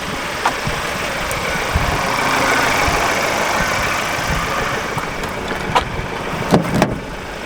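A Ford Ranger Raptor engine idles with a steady low rumble, a few faint clicks and knocks scattered over it, no voices.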